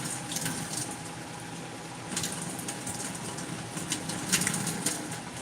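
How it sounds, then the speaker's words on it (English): Excess water being poured out of a cooked rice pot with the lid held over it, a steady splashing and trickling stream running throughout, fairly close, with no talking. "take the lid and pour out the excess water"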